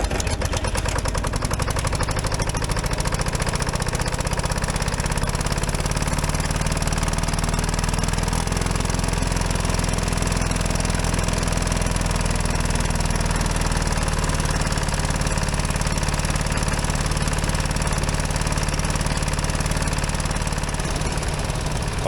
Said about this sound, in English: the old crawler's been warming up for a little while